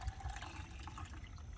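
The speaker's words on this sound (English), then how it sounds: "as I'm pouring water in" Water pours steadily into a measuring cup held over a mixing bucket, a continuous splashing trickle close by with no talking.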